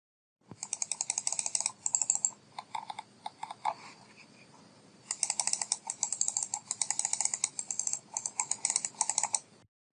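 A Logitech G305 wireless mouse clicks in quick, close bursts of sharp plastic taps that pause briefly in the middle before resuming, with no voice over them.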